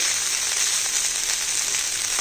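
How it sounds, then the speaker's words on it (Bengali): Eggplant slices fry in hot oil in a pan, giving a steady, dense sizzle that stays even and loud throughout with no voices. "বেগুন কটা আমার সুন্দরভাবে লাল করে ভাজা হয়ে গেছে"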